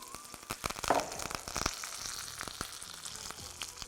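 A tempering of ginger, green chilli, dried red chilli, curry leaves and sesame seeds frying in hot oil, crackling loudly with sharp pops and bursts over a steady sizzle.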